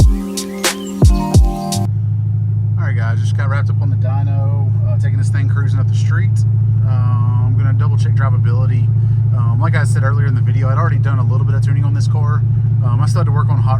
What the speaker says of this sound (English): taking this thing cruising up the street